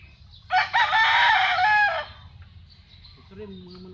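A rooster crows once, loud and close, a harsh stretched call lasting about a second and a half, followed by low clucking from chickens amid faint background hum.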